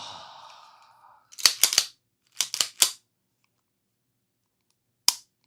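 A tuned trigger on a Staccato C2 pistol gives a few crisp, sharp mechanical clicks in quick pairs and triplets, then one last isolated click after a pause, close and clear in a quiet room following a brief breathy sound.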